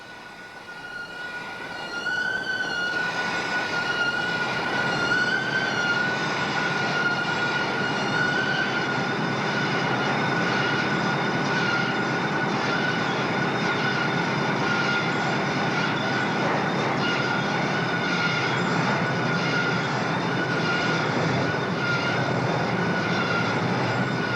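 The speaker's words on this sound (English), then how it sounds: "The pipeline is picked up by a string of tracked vehicles to be brushed and coated." A string of tracked vehicles lifts a pipeline for brushing and coating, giving a steady loud mechanical drone with a sustained high whine and engine rumble throughout, no voices.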